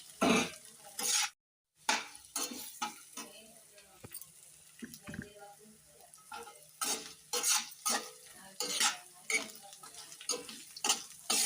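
Pieces of liver with amaranth leaves and garam masala fry in a pan while a spoon stirs them, giving repeated scraping strokes in an uneven rhythm over a soft sizzle, close by.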